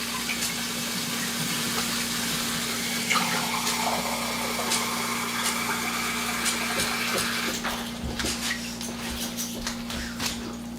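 Warm water being poured cup by cup into a bowl for cinnamon roll dough in a home kitchen, a steady close splashing and trickling stream with a faint hum underneath and no talking.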